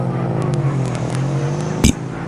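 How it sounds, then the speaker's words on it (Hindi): A car engine hums steadily as it reverses, a sound effect in a narrated horror story, with a sharp thump near the end and no speech. "ये देख मैं डर के मारे गाड़ी रिवर्स की"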